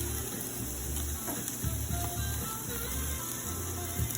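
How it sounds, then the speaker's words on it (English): Barbecue sauce searing on ribs over a grill, a soft, steady hiss of sizzling with faint low rumbling underneath, no voices. "all we really want to do at this point is just sear that sauce on there real good"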